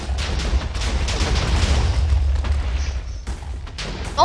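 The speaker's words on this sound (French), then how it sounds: "on va exploser ce petit truc" Explosions in the video game Zombie Apocalypse, a dense run of booming blasts and rumbling bursts over several seconds, loud and close, with a brief lull before a final hit.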